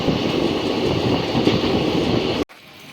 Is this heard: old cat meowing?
no